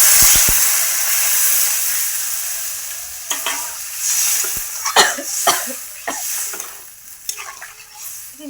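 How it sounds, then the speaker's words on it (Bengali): Water poured onto sautéed masala in a hot pan for a spicy banana flower (mocha) curry gives a loud, close hiss that fades, followed by scraping stirring strokes and a few sharp clinks, with no talking. "এবার জলটা দিয়ে দেবো, মশলাটা কষানো হয়ে গেছে"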